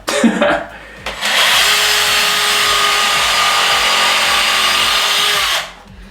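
A power drill runs in a single sustained burst of high-pitched whirring that lasts several seconds and then stops, preceded by a few short knocks and handling sounds, close and loud with no talking.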